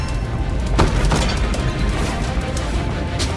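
Wand alternate fire in the first-person fantasy shooter Ziggurat 2, a dense, noisy magical burst with crunchy impacts and low rumble, sustained and loud across the whole moment with a sharp crack near the start.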